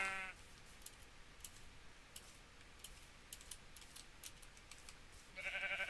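A Minecraft sheep bleats in the game with a short wavering call, followed by quiet clicking through a mostly hushed stretch, then another bleat right at the end.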